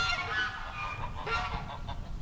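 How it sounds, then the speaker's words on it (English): Geese honking repeatedly at moderate distance over a steady low outdoor rumble, several overlapping calls in an irregular rhythm. "The goose finally up on the pile"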